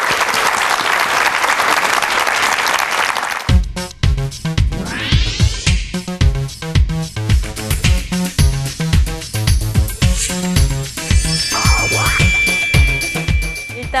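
Studio audience applause welcoming a lecturer at a televised lecture: a dense wash of clapping for several seconds, then giving way to rhythmic, evenly spaced claps with brief music-like tones near the end.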